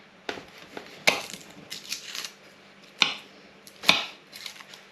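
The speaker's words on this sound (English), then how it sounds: "I'm just going to chop up a little bit of garlic" A knife chops a little garlic on a chopping board: a handful of sharp, uneven knocks close up, with brief gaps between strokes and no voices.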